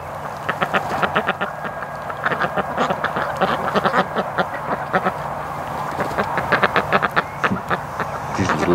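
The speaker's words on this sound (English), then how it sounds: "These little ducks coming over." Several ducks on a lake quack in loud, repeated bursts close by, with overlapping calls from courting males and a steady outdoor background.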